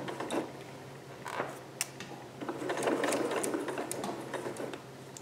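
A sewing machine stitches thick fabric darts in quick mechanical bursts, close and fairly quiet, with ticking and clacking of the needle action and short pauses as the foot is lifted and the fabric eased through.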